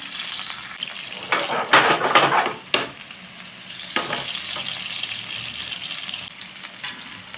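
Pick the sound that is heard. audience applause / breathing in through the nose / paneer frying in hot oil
paneer frying in hot oil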